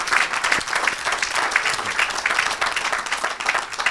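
A church congregation applauding to acclaim Jesus, with dense and continuous clapping from a large crowd and a steady roar held over the whole stretch.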